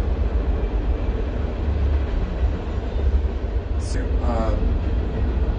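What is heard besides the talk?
train going by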